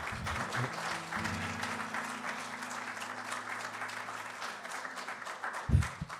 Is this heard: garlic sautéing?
no